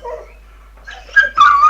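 A pit bull whimpers and gives short yips, starting with a soft whine and then two louder, higher bursts near the end, heard up close with no talking.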